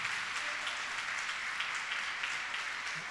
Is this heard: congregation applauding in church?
yes